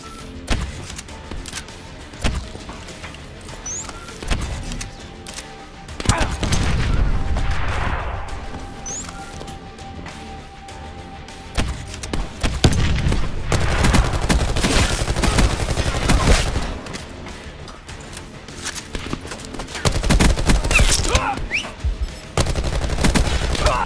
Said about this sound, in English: Shift position on that turret gun, pal.